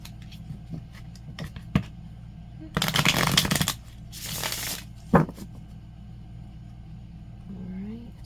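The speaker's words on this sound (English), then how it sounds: "Shuffle 2 more times and cut." Two bursts of riffling tarot card shuffles, one longer and one shorter, stand out against a low steady rumble with a few soft taps around them.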